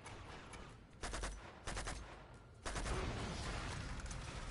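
Enemy gunfire from the video game Uncharted 2 crackles in dense bursts of rapid shots, loud and close. There are short gaps between volleys before a heavier sustained barrage takes over.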